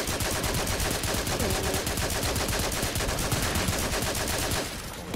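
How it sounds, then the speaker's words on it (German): Rapid automatic gunfire in the video game Volcanoids hammers away nonstop in a dense, loud stream of shots, then cuts off abruptly near the end. "Trifft da kein einziger Schuss?"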